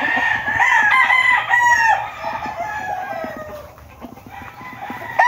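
Young roosters, stags, crowing at a Filipino rooster farm, several overlapping crows and clucks from birds near and farther off, fairly loud and continuous.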